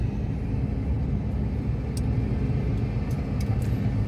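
A DAF truck with an ABS sensor fault pulls away and drives, producing a steady, deep engine and road rumble throughout with a few faint, brief clicks on top.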